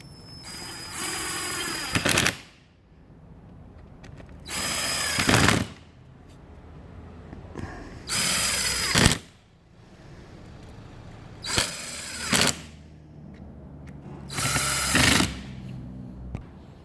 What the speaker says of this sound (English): I'm going to use a cordless drill just because it's a little bit faster